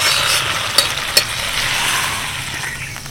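Steady hiss and sizzle of a curry leaf tempering in a hot pan, with a couple of sharp clinks near the start, as a small splash of water goes in for dahi vada.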